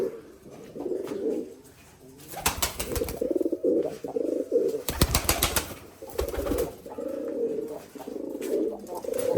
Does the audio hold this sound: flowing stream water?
no